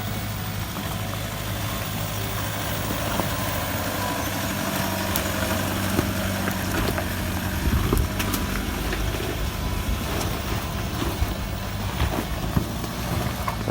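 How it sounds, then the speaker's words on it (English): A Toyota 4WD diesel drives off-road through bush ruts in Australia, its engine droning steadily and loudly as wheel spin and traction control work the tyres, with no voices. "Bit of wheel spin, bit of traction control happening there."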